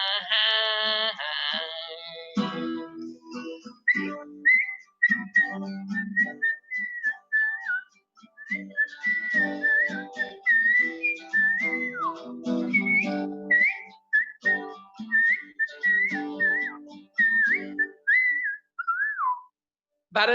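A person whistles the melody of a song, a steady, breathy tune carried over about twenty seconds, close to the mic, with a brief hum-like passage at the start.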